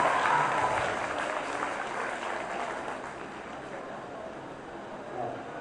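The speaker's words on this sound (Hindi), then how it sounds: "एक बार फिर जोरदार तालियों की गूंज में आपके मेहमानों का इस्तेमाल कीजिए।" An audience at a students' awards function applauds, a dense wash of clapping that starts loud and gradually tapers off over several seconds.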